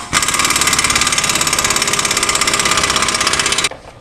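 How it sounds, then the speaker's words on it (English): A pneumatic air impact gun loosens an 18 mm strut bolt while lowering a car, a loud, rapid hammering rattle that runs steadily for over three seconds before cutting off sharply, no voices. "Hook it up to your air gun and your air line, and then remove it by loosening it off"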